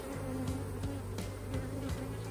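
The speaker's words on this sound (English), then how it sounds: "probably quite a few bees in here still" Honey bees buzz steadily inside an open hive during an inspection, a close, continuous drone with a few louder passes of individual bees near the listener.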